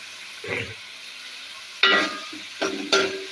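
Onions frying in a pan, heard as a few short bursts of sizzle and stirring scrapes with quiet gaps between, close and moderately loud.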